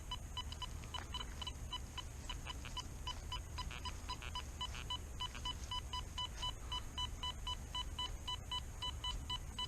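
Equinox 800 and XP Deus metal detectors at 15 kHz giving steady repeated electronic beeps and tones beside iron targets, a continuous close sequence of short pulses over low background rumble, with no talking.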